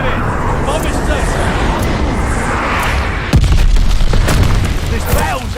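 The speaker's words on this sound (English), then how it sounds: "We have the bomb. Arming the bomb. Flight bomber assist coming in." A bomber airstrike in Call of Duty: Vanguard, heard as a loud, dense rumbling blast that swells sharply partway through and keeps roaring, with a voice speaking over the game audio.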